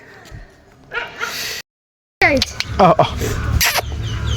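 A pet dog gives a few close, sharp yips and barks amid household sounds and people talking nearby, with a short silent gap partway through.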